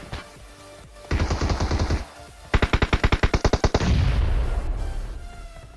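A Tommy gun in PUBG fires two fast automatic bursts, the second a long rapid string of evenly spaced loud shots, trailing into a rumbling roar.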